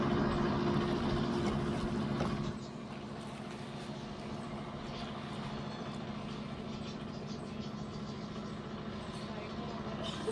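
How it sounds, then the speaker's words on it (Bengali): A speedboat approaches through fog at a river crossing where people are being ferried, its steady engine drone loud at first and then dropping to a lower, even hum, with people talking over it. "আরেকটা নৌকা আসতেছে, স্পিড বোট।"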